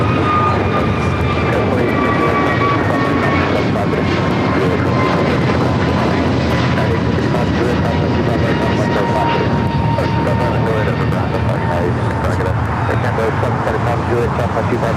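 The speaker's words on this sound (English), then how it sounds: "A321neo now rolling down at 25 right" Airbus A321neo airliner taking off on runway 25 right at LAX, a steady broadband engine roar filling the whole stretch with rising whine tones, while radio-style voices talk over it.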